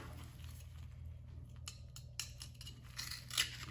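A shucking knife cuts through a brittle oyster shell, producing quiet, irregular crunching and scraping crackles that grow sharper toward the end, close and faint over a low background hum.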